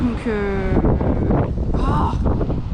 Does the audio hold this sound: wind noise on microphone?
yes